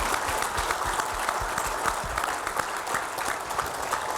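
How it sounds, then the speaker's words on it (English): Audience at a sustainability panel at a 2024 celebration event claps in a dense, continuous burst of applause, loud and close, sustained throughout with no speech on top. "Round of applause."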